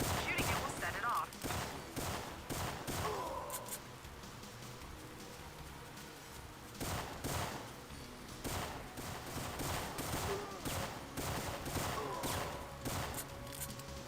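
Rapid bursts of gunfire crackle repeatedly from a Syphon Filter PS1 game session, loud volleys separated by short pauses, with game voices and player talk mixed underneath.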